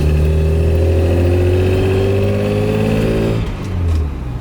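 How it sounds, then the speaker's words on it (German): A 1963 Maserati 3500 GT Sebring engine running steadily while driving, a loud close hum with a rising tone that eases off near the end. "Also das Auto hört sich ganz sauber an, er läuft wirklich hervorragend"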